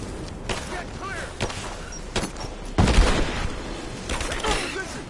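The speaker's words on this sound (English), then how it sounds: "Give me covering fire!" Video game gunfire: several sharp, scattered shots and bursts, with a heavier, booming volley near the middle. Shouting voices are heard among the shots.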